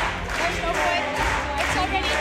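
Audience at a poker table event cheering, clapping and shouting a player's name, rising in rhythmic bursts of crowd voices close by.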